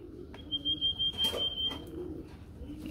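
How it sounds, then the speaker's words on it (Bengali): Racing pigeons coo softly and flutter close by in a loft, with low murmuring calls over a steady background hum and a brief thin whistling tone. "মাশাআল্লাহ খুব ছটফটা কবুতর তো"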